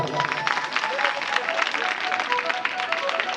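Listeners at a Hindi religious discourse on the Aranya Kand clap loudly and continuously, a thick crowd applause with individual claps standing out, carrying on throughout with some voices faintly underneath.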